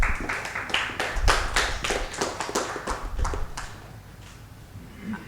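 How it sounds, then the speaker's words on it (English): Applause at a seminar on e-commerce logistics, a scattered round of hand claps from an audience that thins out and fades after about four seconds. "Can we have a huge round of applause?"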